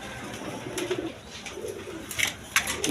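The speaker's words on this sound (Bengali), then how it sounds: "এখানে এক পেয়ার শৌখিন কবুতর আছে" A pair of big-size fancy pigeons coo in a cage, their low murmuring calls repeating close by alongside brighter chirps and light rustling.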